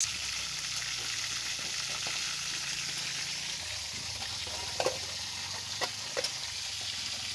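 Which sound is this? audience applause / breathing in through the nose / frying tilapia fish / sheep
frying tilapia fish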